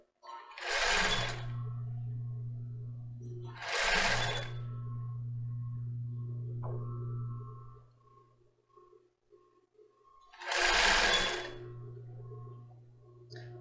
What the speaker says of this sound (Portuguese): agora eu vou organizando e costurando